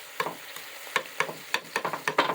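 Ground beef fries in saved bacon fat in a pan for hamburger gravy, a steady sizzle broken by quick, repeated scraping stirs up close, with no talk.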